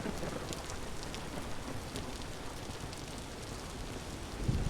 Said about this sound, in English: It makes sense that it's sort of the rainy season.